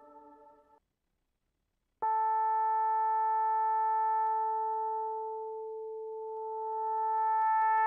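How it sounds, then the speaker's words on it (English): Pure synthesizer sine tones from a Yamaha SY77, a brief quieter tone followed after a gap by a steady sustained tone with faint overtones that dips slightly in level then swells, heard alone. "this also is just a sine wave"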